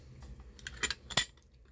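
A Stanley cooker pot set from a 2023 bug out survival bag is handled, giving a few light metallic clinks and rattles, brief and close, with soft handling noise between them.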